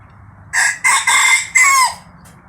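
A young Thai fighting rooster crows loudly and close by, one long drawn-out call broken into several rising and falling segments, with a quiet background.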